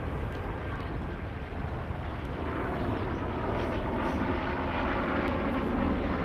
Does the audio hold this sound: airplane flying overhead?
yes